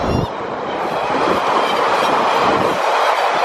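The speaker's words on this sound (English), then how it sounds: "Look, a train! I like trains." A train rolls past close by beside the tracks, a loud, steady roar of wheels and rattling cars that fills the whole clip with no talking.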